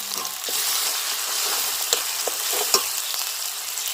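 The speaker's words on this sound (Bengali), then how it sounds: "একটু ভেজে নিই।" Onion frying in hot oil with garlic and ginger paste for a duck curry, a steady close sizzle broken by occasional stirring clicks and scrapes of the spoon in the pan.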